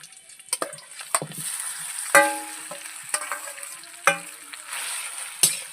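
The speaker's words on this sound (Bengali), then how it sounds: "এবার আমি কচুর লতি আমি চটকে নিয়েছি দিয়ে দিচ্ছি কড়াইতে" Mashed taro stolons hit hot oil in a wok, giving a bright crackling sizzle with repeated sharp scraping strokes of a spatula at irregular intervals, close and fairly loud, with no speech.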